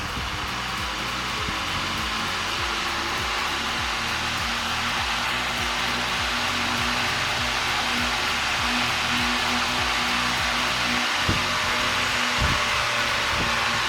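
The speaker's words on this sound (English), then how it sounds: "So let's start the fan and see what's the performance." A vintage 1950s TARA 16-inch DC table fan runs on its high setting, giving a steady, loud whirring hum with a constant motor drone and airy rush that holds evenly throughout, with no voices.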